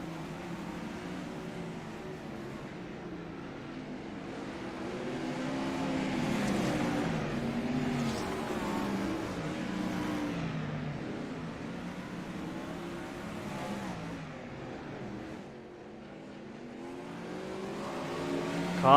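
410 sprint cars roar around a dirt oval during a heat race, engines rising and falling as they pass, loud and continuous with a brief dip near the end.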